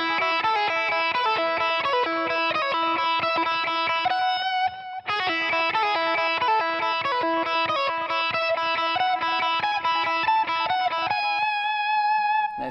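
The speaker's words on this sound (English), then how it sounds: "A lot of that alternate picking after that series of pull-offs." Distorted electric guitar plays a fast lead phrase, a run of pull-offs flowing into rapid alternate-picked notes and ending on a sustained vibrato note, loud and continuous with a brief gap near the middle.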